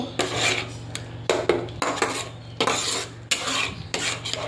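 Yogurt and cashew paste stirred and fried in a pan for a Bengali doi katla fish curry, with steady scraping and clinking of a spoon against the pot over a continuous sizzle, close and fairly loud.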